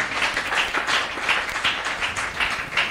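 A church congregation claps together in a steady, even burst of applause that fills the room, with a few faint voices mixed into the clapping.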